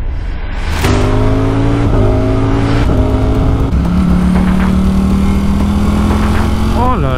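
A Ducati Streetfighter V4 motorcycle idles and revs loudly while warming up, its strong steady engine drone rising and falling in pitch close by, with a voice briefly audible over it.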